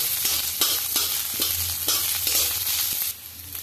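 Long sliced onions fry in hot oil, a loud close steady sizzle with a few rhythmic stirring scrapes, dropping slightly in level near the end.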